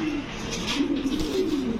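Large long-distance fancy pigeons coo in a low, steady rolling murmur, close and continuous throughout, with faint higher chirps above.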